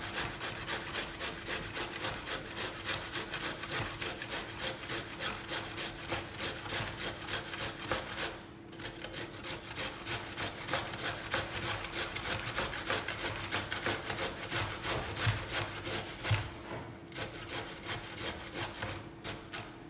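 Carrot being grated by hand, a steady rapid rasping scrape of regular back-and-forth strokes with two brief pauses, close and moderately quiet, with no talking.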